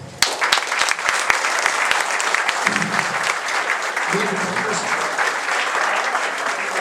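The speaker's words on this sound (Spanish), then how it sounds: "Merecido el aplauso." A crowd at a bar association conference applauds steadily, a dense rattle of many hands clapping that carries on without pause.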